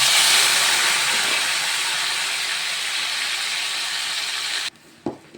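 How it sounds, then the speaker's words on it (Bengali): Boiled jujube berries drop into a generous amount of hot oil for a sweet-sour pickle, raising a loud, steady hiss and sizzle that runs for several seconds before cutting off, followed by a couple of soft clunks. No speech. "এখন আমি কুলগুলো তুলে তুলে দিয়ে দিচ্ছি।"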